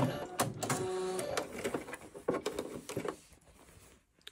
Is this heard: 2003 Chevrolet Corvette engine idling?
no